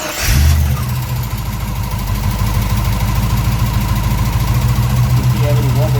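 The engine of a 1965 Pontiac car rumbles loudly and steadily up close as it idles and is put into gear to move, with a deep, even throb throughout.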